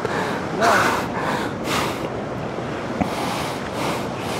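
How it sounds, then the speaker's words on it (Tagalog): A strong current of flowing water rushes and churns steadily up close in surging waves, with wind buffeting the microphone and a brief voice under the noise. "Lakas ng tubig dito."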